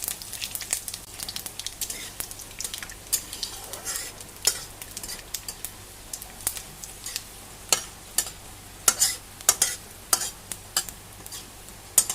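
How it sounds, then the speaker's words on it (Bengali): Bay leaf, dry chilli, panch phoron and whole garam masala sizzle in hot oil for a rainy-day khichuri, a close crackling fry broken by irregular sharp pops and spatula stirs, with no talking. "এখানে নিয়েছি তেজপাতা শুকনো লঙ্কা পাঁচফোড়ন আর গোটা গরম মশলা এখন তেলের মধ্যে দিয়ে দিচ্ছি"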